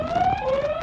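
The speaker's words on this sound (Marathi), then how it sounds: "हा सायरनचा आवाज येतो मगासून." A siren wails steadily at a moderate distance, its tone holding and shifting slightly in pitch through a brief moment, with no one speaking.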